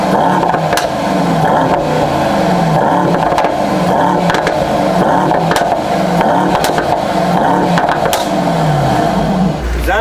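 A Mercedes-AMG GT63 rumbles from behind with a loud, continuous low exhaust burble and rising and falling engine tones, a few sharp pops, close and dominant throughout.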